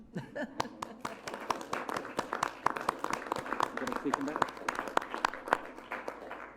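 Applause at a council strategy, policy and finance committee meeting after a presentation, a dense, lively patter of many hands filling the room, with a murmur of voices underneath.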